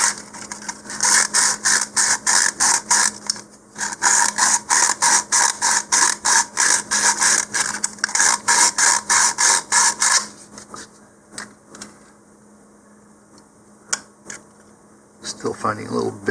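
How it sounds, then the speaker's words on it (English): Close-up sanding of a plastic model rocket motor mount lip with 100 grit sandpaper, an Estes Orion 3D Rigel kit: rapid rhythmic rasping strokes in two long bursts, then quieter scattered rubs and handling noises. "I'm going to take some 100 grit sandpaper and just sand that off"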